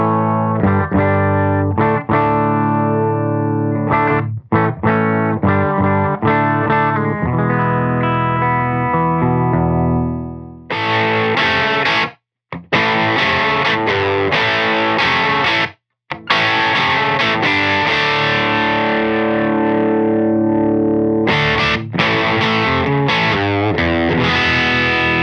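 A Yamaha Revstar electric guitar plays simple chords and riffs through a Thorpy FX Electric Lightning tube overdrive pedal into a Benson Amps Monarch Reverb Plus, loud and continuous with a few brief pauses.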